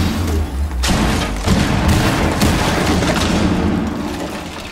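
A bomb explodes in the tactical shooter Rainbow Six Siege, a sudden loud boom followed by a dense, rumbling clatter of blasts and gunfire-like cracks that gradually tails off.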